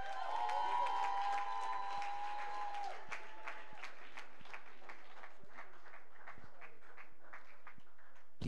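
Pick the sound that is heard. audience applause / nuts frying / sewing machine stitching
audience applause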